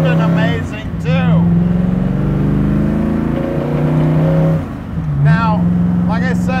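A 1965 Shelby Daytona's engine drones steadily while driving, loud and close, dipping briefly as it shifts, with someone talking over it at times.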